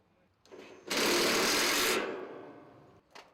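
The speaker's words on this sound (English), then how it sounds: "Fix each top hat to the purlins using the recommended screws" Screws driven with a power driver to fasten steel top hats to purlins during facade installation: a loud whirring burst of about a second, tapering off, with a faint short whir before and a brief one after.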